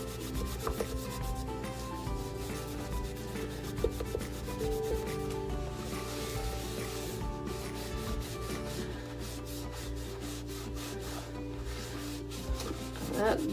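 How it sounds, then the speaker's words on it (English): Wax is rubbed onto a chalk art board with a cloth, making a close, continuous, faint rubbing with a rough texture. "Rub it on the board."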